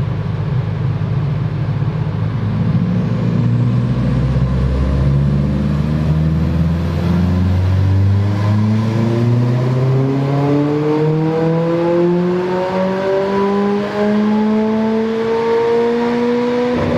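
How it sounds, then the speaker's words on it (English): Turbocharged Rover T16 engine in an MG ZR revving hard on a dyno, a loud, steady roar whose pitch climbs continuously through a long pull for about twelve seconds, with no talk. "we'll be putting my car onto the dyno to see how much power it can make"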